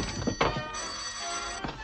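An old-fashioned telephone bell rings in a 1936 film scene, a bright, steady electric ring filling the short moment with a brief knock near the start and no talk.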